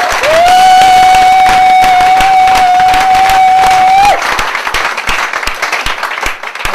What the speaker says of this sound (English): Please, big round of applause, Sandy and Rowan.